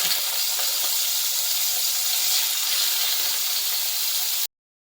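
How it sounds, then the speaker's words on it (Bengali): Two fish dropped into hot oil in a pan, frying for a Bengali doi katla dish: a loud, steady, broadband sizzle that holds without a break, then cuts off suddenly near the end. "এবারে তেলটা মোটামুটি গরম হয়ে গেছে, এবারে আমি মাছ দুটো এখানে দিয়ে দিচ্ছি।"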